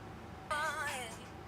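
A short, soft female vocal 'ah' from a singer, recorded on a demo mic with speaker spill, rises briefly in pitch and fades within about a second over a quiet background hiss.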